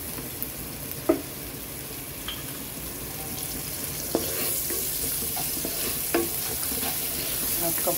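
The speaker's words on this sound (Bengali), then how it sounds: "এই পর্যায়ে আমি দিব তেল। 1/2 কাপ পরিমাণ তেল দেব।" Oil poured into a pan of dried-out onions for a country chicken bhuna gives a steady frying sizzle with occasional crackles and light utensil clinks, close and moderate in level, with no talking.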